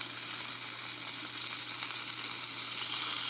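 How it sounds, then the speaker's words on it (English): Steak searing on its edges in a cast-iron pan gives a continuous loud, close sizzle with a hiss that stays even and unbroken throughout, with a low steady hum beneath it. "I'm just cooking the sides so I get a good sear on it."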